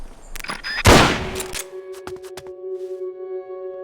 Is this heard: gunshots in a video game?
yes